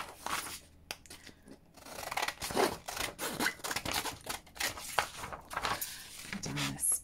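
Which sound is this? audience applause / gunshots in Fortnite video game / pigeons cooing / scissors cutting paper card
scissors cutting paper card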